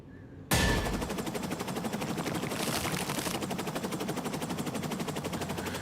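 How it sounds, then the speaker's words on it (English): Minigun fire in a Terminator video game: a sudden, loud burst that rolls on as a dense, continuous machine-gun roar with no letup, close and filling the whole scene. "He's got a minigun."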